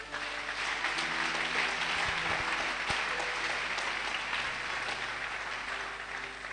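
A church congregation at a French-language service claps together in sustained, dense applause that fills the space evenly from start to finish, with no voices rising above it.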